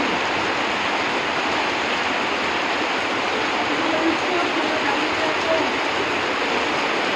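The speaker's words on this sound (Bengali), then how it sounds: "আজকে প্রচুর বৃষ্টি হচ্ছে।" Heavy rain pours down in a steady, dense hiss that stays constant throughout, with no voices.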